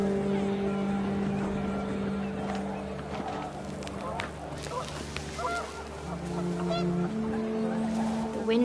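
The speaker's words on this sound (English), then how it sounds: "The wind picked up and panicked geese appeared and quickly went." Geese honk in a PS4 video game as wind picks up, repeated calls sounding over steady game ambience and background music, with a voice talking through much of it.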